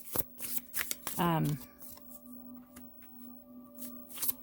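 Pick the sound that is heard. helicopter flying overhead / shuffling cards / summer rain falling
shuffling cards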